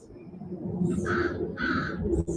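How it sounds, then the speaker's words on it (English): Crows cawing outdoors in repeated harsh calls, a few separate bursts of two or three caws over steady low background noise, fairly close and clear. "We hear the birds chirping."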